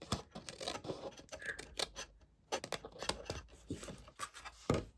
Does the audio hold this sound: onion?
no